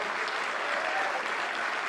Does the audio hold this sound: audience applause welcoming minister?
yes